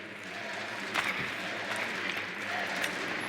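A live crowd at the Six Invitational 2023 Rainbow Six Siege esports playoffs, G2 versus Astralis, claps in sustained, dense applause that swells briefly with a few sharper bursts.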